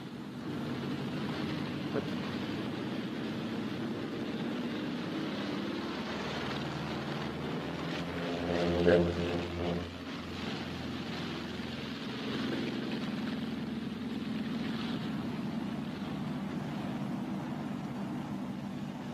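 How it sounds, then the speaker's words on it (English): WWII bomber aircraft engines running steadily as they are throttled back, a continuous low droning roar with a brief swell midway, heard from inside the aircraft without talk. "I'm throttling back now to normal rated power, which is 38 inches of manifold pressure"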